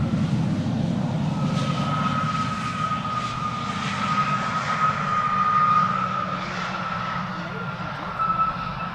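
An Aer Lingus airliner arriving from Dublin at Schiphol Airport passes with a loud, sustained engine roar and a steady whining tone, heard throughout at close range with a constant low rumble.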